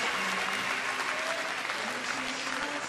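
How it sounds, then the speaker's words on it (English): An arena crowd at the Glasgow 2014 Commonwealth Games women's 53kg weightlifting final applauds after a lift attempt, a sustained, even roar of many hands clapping throughout. "It's still worthy of an applause, ladies and gentlemen."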